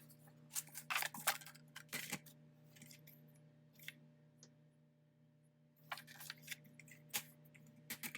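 Scissors snip paper for a Happy Planner layout in short crisp bursts, several quick cuts close by, then a quiet pause, then another run of snips.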